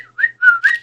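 Short melodic whistling from the video game Dream Daddy, a few clear close tones rising and sliding in a quick, tuneful phrase.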